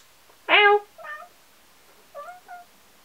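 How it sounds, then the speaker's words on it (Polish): A cat meows close by: one loud, drawn-out meow followed by three shorter, softer chirping meows with pauses between them. "Miau!"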